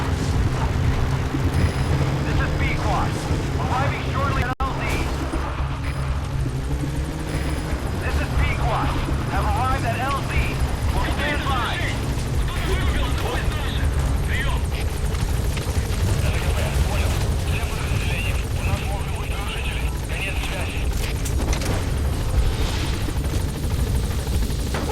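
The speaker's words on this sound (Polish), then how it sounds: "pakujemy się do helikoptera" A helicopter in the Metal Gear Solid V video game drones with a steady rotor roar through the whole stretch, loud and continuous, while someone talks over it.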